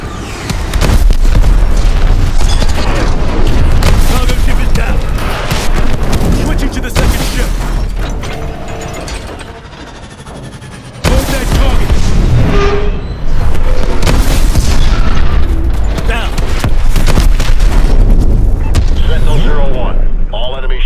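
Heavy booming explosions as cargo ships are destroyed in Call of Duty: Advanced Warfare, loud and sustained with rumbling low end, one brief lull midway before the blasts resume, with voices talking over them.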